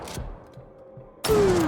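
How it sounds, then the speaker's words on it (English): A shotgun fires in a horror video game, with two sharp blasts about a second apart and the second one ringing out brightly. "Basic combat. A shotgun."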